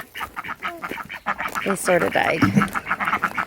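Ducks let out of their pen in a garden quack loudly and repeatedly at close range, their raspy calls overlapping with a person talking.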